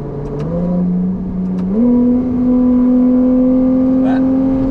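A Ferrari 296 GTB hybrid accelerates hard in Jakarta, its engine note climbing loud and close through rising revs with a gear change, alone without talk.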